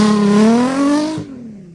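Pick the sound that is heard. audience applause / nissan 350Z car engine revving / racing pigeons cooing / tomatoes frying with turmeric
nissan 350Z car engine revving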